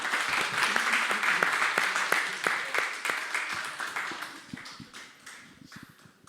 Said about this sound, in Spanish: Y le vamos a dar un aplauso para que lo sigan haciendo.